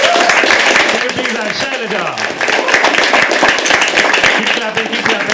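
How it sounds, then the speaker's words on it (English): Live audience at a poetry open mic at The Habitat clapping steadily throughout, a dense, sustained patter of applause with a host talking over it. "Keep clapping, keep clapping."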